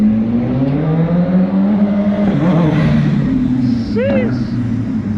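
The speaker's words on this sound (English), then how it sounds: "Damn, that BMW sound good." A BMW S1000RR motorcycle engine revs loudly nearby, its pitch climbing and falling in a sustained howl with a quick burst of higher revs near the end, while a voice exclaims over it.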